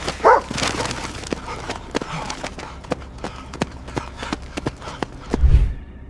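A dog confronting a delivery driver, heard as close scuffling, running steps and short bark-like bursts, with a loud thump near the end.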